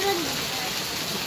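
Rain falls steadily in a village, a dense, even hiss that fills the short stretch from start to finish with no breaks.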